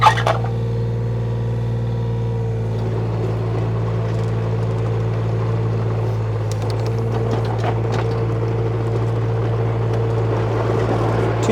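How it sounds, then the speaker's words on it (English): A 2006 John Deere 35D mini excavator with rubber tracks runs at a steady, loud engine drone and hydraulic whine as it spins its tracks, with faint clanks over the continuous hum. "You can see there it'll spin the tracks without any questions asked."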